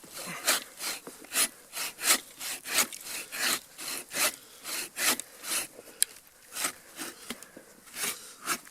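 A bow saw with a poorly set kerf that pinches in the cut saws through firewood in a winter camp, with steady back-and-forth rasping strokes, about two per second, loud and close, with no talking.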